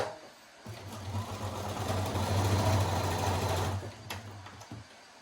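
A sewing machine stitches quilt block pieces for a Halloween Rolling Stone block, a close, steady motor hum that runs for about three seconds, then stops with a couple of clicks.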